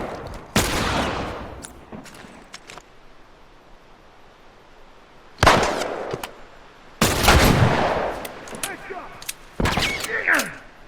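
Gunshots in the video game The Last of Us: several loud, sharp blasts and short bursts separated by quiet stretches, close and echoing, with a voice briefly audible.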